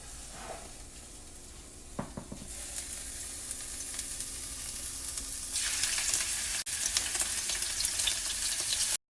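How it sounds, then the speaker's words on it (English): Shrimp hit a hot frying pan for shrimp alfredo, a few clatters as they drop in, then a steady hissing sizzle that grows louder and brighter, close up with no talking. "Our next step is to put the shrimp in our pan."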